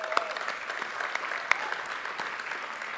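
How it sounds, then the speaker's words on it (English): Audience applause at a startup ecosystem summit in Queensland, a dense, steady wash of many hands clapping throughout, with a couple of sharper individual claps standing out. "So let's give Wayne a big round of applause."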